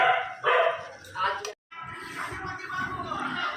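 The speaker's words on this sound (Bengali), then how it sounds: "আজকে কুকুরগুলো প্রচণ্ড চিল্লাচ্ছে" Several dogs bark loudly in repeated bursts outside a Bengali household, with voices talking over parts of the commotion.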